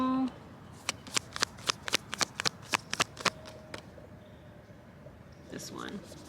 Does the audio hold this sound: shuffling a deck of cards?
yes